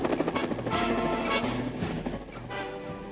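A helicopter flies in a chase in an animated series, with a loud, steady rotor drone running through the whole stretch, mixed with dramatic music-like tones.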